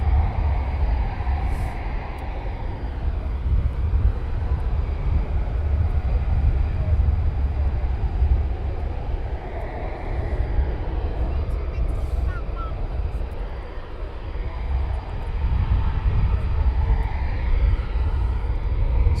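A military jet taxis at RAF Coningsby, a steady low engine roar that swells and fades across the whole stretch, heard from a distance outdoors with no talk over it.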